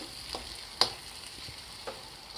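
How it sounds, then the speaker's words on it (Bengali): Dried Bombay duck fish paste being stirred in a hot pan, a soft steady sizzle broken by a few sharp scraping clicks of the spoon against the pan, close and quiet with no talking. "আমি খুব ভালো করে একটানা নেড়ে চেড়ে নিচ্ছি"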